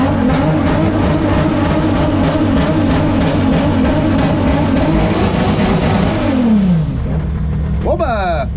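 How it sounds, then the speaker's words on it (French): A Toyota Supra engine idles with a loud, steady low rumble, dense and continuous, then a falling whine as it winds down near the end, followed by a short rising mechanical chirp; no speech over it. "Dis donc, ça ronronne bien pour un moteur cassé"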